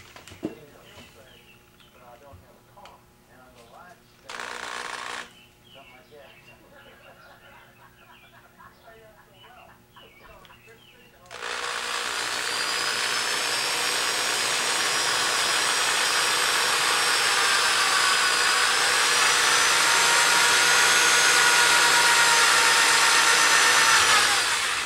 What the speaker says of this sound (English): Now that I've got that starter hole drilled nice and straight